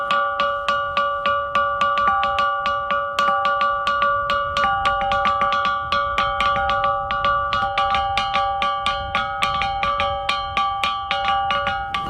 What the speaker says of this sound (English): It's not a bell, but it's what we call the rock gong.